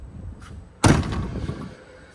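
A Peterbilt 359 truck door swings shut on a newly installed shiny hinge with one solid, close slam, and a short metallic ring fades after the impact.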